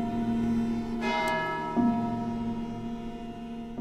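Bell in the tower of St. Agatha church rings out, a resonant strike humming and decaying, with a fresh stroke partway through, close and clear with no voices.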